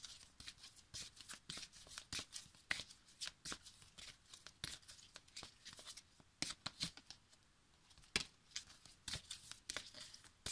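Oracle cards being shuffled by hand, a close, quiet run of rapid papery flicks and riffles in irregular bursts, with soft crinkling between them and no talking.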